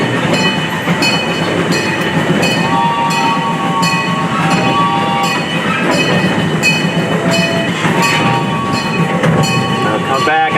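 Continuous close rumble of a zoo miniature train on the rails, with steady clicking wheels, occasional squealing tones and a faint voice underneath.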